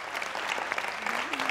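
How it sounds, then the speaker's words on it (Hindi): Applause from a studio audience on a Pakistani game show, a dense burst of clapping at close range, with a voice talking over it and a brief rising tone near the end. "अब तालियां होनी चाहिए।"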